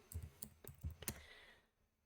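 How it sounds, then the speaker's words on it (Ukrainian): Someone types a git pull command on a computer keyboard. A quick run of close, quiet keystrokes clicks in an uneven rhythm, then the typing stops and the room goes quiet. "Тому я пишу команду git pull"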